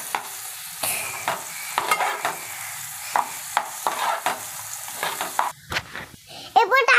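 A capsicum curry with tomatoes is stirred in a pan, a spoon scraping and clacking in uneven bursts over a soft sizzle, ending with a few ringing metallic taps.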